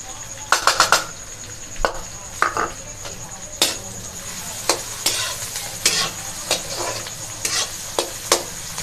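Onions and green chillies fry in a pan with a steady sizzle, punctuated by frequent sharp scrapes and knocks of a utensil stirring against the metal, close and fairly loud.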